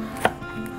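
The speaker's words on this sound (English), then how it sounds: "And then pagputol dito sa repolyo, maliit lang." A single crisp knife chop through cabbage on a cutting board, one short sharp knock in a quiet kitchen.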